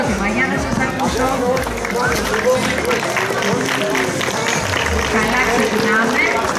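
A crowd applauds at the award ceremony of a 3-on-3 tournament final, dense and steady clapping that fills the whole stretch while a voice talks over it.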